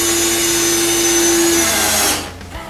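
Power drill driving screws into a pig feeder, a steady high whine held for about two seconds before winding down and stopping, close and loud with no talk.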